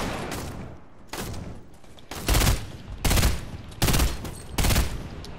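Fortnite gunfire rings out in loud bursts, a few lighter shots early on, then four heavy, evenly spaced volleys of rapid fire, each roughly half a second long.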